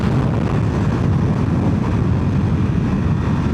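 A 2025 Ducati Panigale V4 motorcycle pulling in sixth gear from about 5,000 rpm: a steady, loud, broadband engine and wind roar with no breaks, heard from the rider's position.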